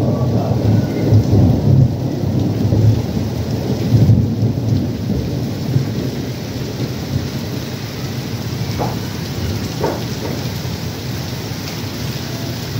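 Heavy rain pours steadily during a thunderstorm in Saudi Arabia, with loud, dense rainfall throughout and deep rumbling thunder building strongest in the opening seconds before settling into a continuous downpour.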